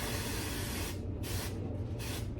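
Aerosol spray can releasing steady hissing bursts over a part being painted, roughly three long sprays with short pauses between, close and loud against a constant background hum, with no talking.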